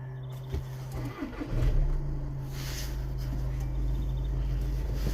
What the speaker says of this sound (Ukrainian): Так само заводимо машину.